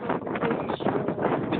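Wind buffets a phone microphone outdoors, producing a continuous rough, rumbling roar that surges and dips over under two seconds.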